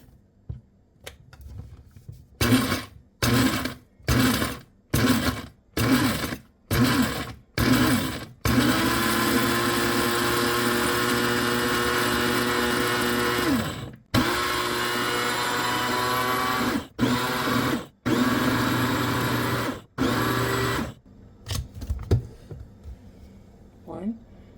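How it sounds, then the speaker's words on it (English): Kasori coffee grinder pulsing dried Thai chili peppers into powder: a series of short whirring bursts, then one long steady motor whine, followed by more quick pulses, loud and close. "I happen to use a Kasori coffee grinder."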